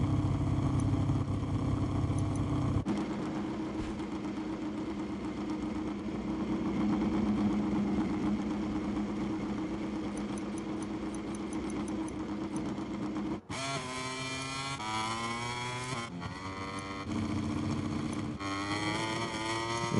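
Motorcycle engines in a racing video game set at the Sachsenring drone and whine continuously, the pitch shifting as bikes rev and change gear in a busy, layered mix with no talk.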